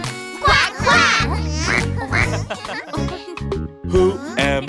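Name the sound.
duck quacking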